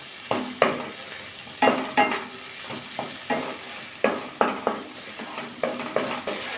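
Spice paste of tomato, green chili, salt and turmeric being stir-fried for a vegetarian jackfruit curry, with a steady sizzle under repeated sharp scraping strokes of a spatula against the pan, close and fairly loud.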